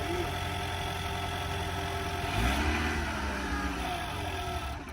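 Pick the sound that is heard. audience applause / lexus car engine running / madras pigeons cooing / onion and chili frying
lexus car engine running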